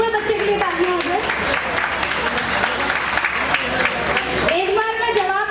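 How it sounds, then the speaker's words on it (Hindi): An audience at an Ambedkar Jayanti community event applauds a child, a steady burst of clapping from a crowd lasting several seconds, with talk heard at the start and end. "एक बार बच्चे के लिए तालियां हो जाए"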